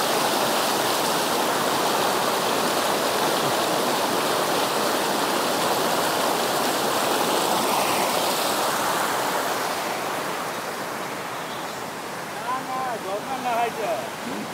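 An icy, clear mountain stream rushes steadily up close in Betab valley near Pahalgam, Kashmir, a dense continuous wash that eases slightly toward the end as a voice briefly comes through.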